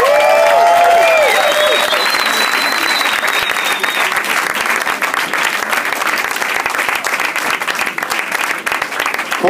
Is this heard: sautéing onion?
no